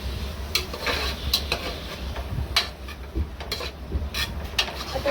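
Tomatoes and curry leaves sauté with onion in a pan: a soft steady sizzle under repeated scraping and clinking of a spoon against the pan, close up, with no talking.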